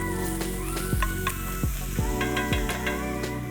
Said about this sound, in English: get a pan on the heat and get our mince caramelising